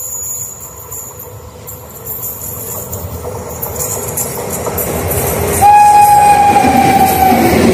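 A special train passing Kalayat railway station in Haryana, with a loud, steady rumble of rolling cars that swells and then a sustained horn blast over the clatter near the end.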